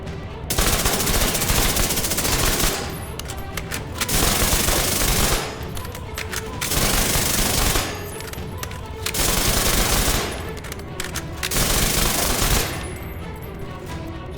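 Chatterbox submachine gun firing in The Division 2: five loud, close bursts of rapid automatic fire, each a couple of seconds long, separated by short pauses.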